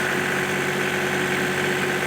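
John Deere 2032R compact tractor engine running steadily at a raised throttle, a continuous close, loud mechanical hum and vibration with no change over the short stretch.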